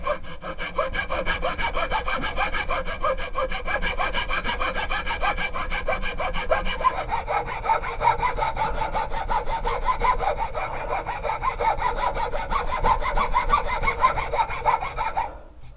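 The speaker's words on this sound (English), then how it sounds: "basically just start filing around, following the tape" A file rasps along a wooden walking stick, following a taped guideline, in steady back-and-forth strokes that run close and continuous throughout.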